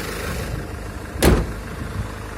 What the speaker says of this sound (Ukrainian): Дивіться, який моторчик тут. Працює як новенький.